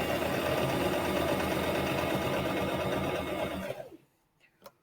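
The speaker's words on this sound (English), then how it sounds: "We're going to do a couple of stitches, back stitch." A sewing machine runs steadily through a short back stitch while joining quilt triangles, its dense mechanical whir loud and continuous for about four seconds before stopping abruptly, followed by a couple of faint handling clicks.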